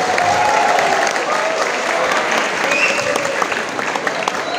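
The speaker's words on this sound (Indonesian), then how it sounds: "Tepuk tangan untuk SMK Muhammadiyah Majenang." An audience at a vocational school graduation ceremony claps loudly and steadily for several seconds, a dense crowd applause that fades slightly toward the end, with a voice faintly underneath.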